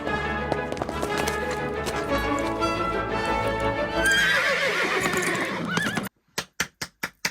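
Horses in a film scene, neighing loudly over music and busy sound effects, then a run of crisp, evenly spaced hoof clip-clops standing alone at the end.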